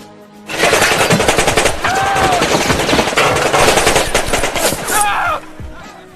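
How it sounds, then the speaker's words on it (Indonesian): Film gunfire from an improvised weapon spraying bullets: loud, rapid automatic bursts crackle continuously for about five seconds, close and dense, with a few ricochet-like whines mixed in. "seorang penjaga menggunakan senjata amatiran, hingga peluru itu muncrat bebas dan menyebabkan mereka tiarap dengan segera"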